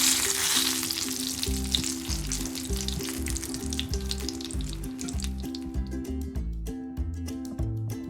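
Eggplant (begun) slices fry in a pan with a steady, crackling sizzle that runs for the whole stretch, with rhythmic background music playing underneath.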